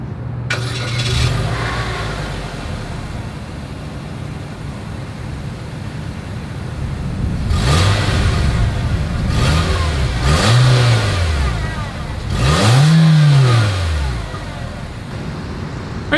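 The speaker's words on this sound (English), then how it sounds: "As always, here is that exhaust clip." A 2022 Nissan Kicks starts, then its engine is revved through the exhaust in three separate rising-and-falling bursts, each louder than the last, heard close up with a steady idle between them.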